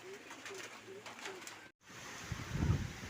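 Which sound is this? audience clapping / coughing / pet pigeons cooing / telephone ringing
pet pigeons cooing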